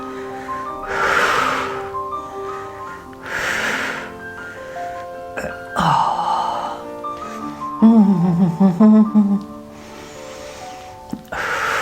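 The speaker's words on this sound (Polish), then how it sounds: "I oddychamy głęboko, żeby wyrównać oddech." A person takes deep breaths during a gymnastics exercise session. Several loud, airy inhale and exhale bursts come at a slow, regular pace over background music.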